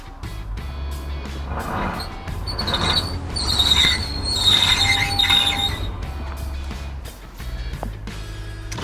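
A V6 Honda Passport SUV with a continuously variable transmission strains to drive out while stuck, its engine droning as tires squeal and whine loudly and unevenly before easing off near the end.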